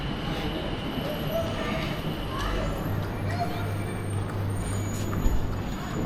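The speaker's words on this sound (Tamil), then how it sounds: "வந்துருச்சு. Train is arriving." An airport metro train pulls in with a steady, heavy rumble and hiss that holds evenly, ending with a short louder thump.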